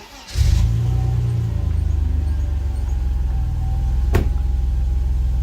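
A 1991 Mercedes 300E with about 139,000 miles cranks and catches, then settles into a steady, close, rumbling idle with a brief sharp click partway through.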